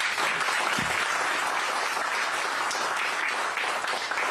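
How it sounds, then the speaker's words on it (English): Audience applause for military veterans at a town-hall style political event, a dense, steady wash of many hands clapping throughout without a break. "Let's give them a round of applause."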